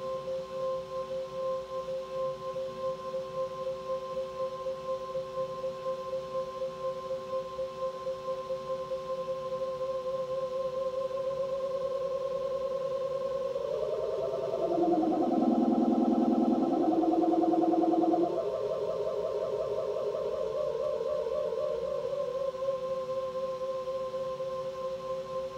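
A pure sine tone fed through a chorus pedal, a steady hum with a higher partial that swells midway into a wavering, shimmering warble before settling back to the plain steady tone.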